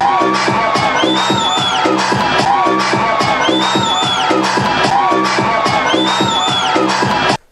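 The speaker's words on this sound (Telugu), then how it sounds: "కార్యకర్తలు జోరు వానలో చప్పట్లు నినాదాలతో సభా ప్రాంగణం మారు మురగిపోయింది" A large crowd of party workers cheers, whoops and chants loudly and continuously at an outdoor political rally for Roja held in heavy rain, a dense, steady roar that cuts off abruptly at the end.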